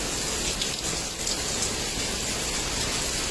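Heavy rain pours down in a dense, steady roar of close, loud hiss with no letup.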